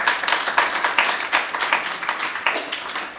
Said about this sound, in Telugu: ఈ చప్పట్లు జాషువాకి నాకు కాదు.